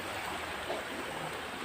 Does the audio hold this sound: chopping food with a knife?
no